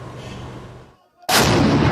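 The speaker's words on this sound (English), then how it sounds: "Gunshots ringing out in residential areas" Heavy gunfire and artillery booms in residential areas of Khartoum, a loud rumbling blast fading to near silence before another sharp, powerful report cuts in.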